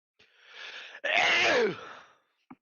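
One loud, close sneeze: a breathy inhale builds, then a forceful burst that trails off, followed by a brief small noise.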